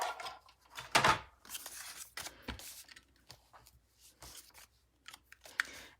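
A paper trimmer slices cardstock diagonally in two strokes, giving a sharp scraping cut near the start and a shorter one midway, followed by light rustling and handling of paper in a quiet room.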